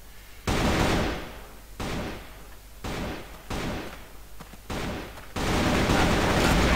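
Repeated bursts of automatic gunfire from the Cross Fire shooter game, several loud close volleys with short gaps between them, the last burst sustained to the end; no talk over it.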